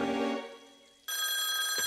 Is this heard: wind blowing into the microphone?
no